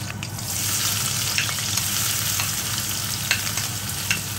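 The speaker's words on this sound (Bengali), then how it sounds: "পেঁয়াজগুলোকে একটু হালকা করে ভেজে নেব" Onions sizzle in hot mustard oil with nigella seeds and chilli in a pan in a Bengali home kitchen, a steady close frying hiss broken by occasional stirring clicks, with no voices.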